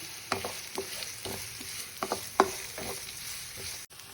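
Onion and garlic frying in a pan, a steady close sizzle broken by repeated stirring scrapes and light clicks of a spoon against the pan, with no voices.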